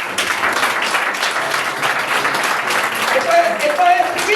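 A church congregation applauds, a dense, steady wash of many hands clapping together at fairly close range, with voices calling out over it throughout.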